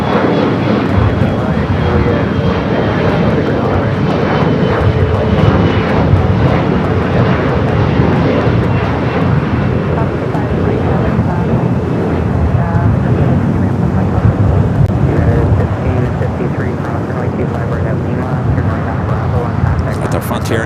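A jet airliner at LAX roars on takeoff as a steady, broad, loud rumble, with wind noise across the microphone and someone talking over it.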